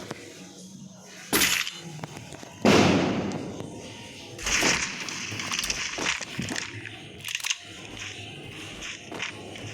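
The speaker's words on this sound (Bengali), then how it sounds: "ভাই এখন চারিদিকে বোম ফাটছে" Bombs explode all around in the Free Fire video game, several sharp blasts and crackling bursts at uneven intervals, some loud and close, others fainter, over a busy game backdrop.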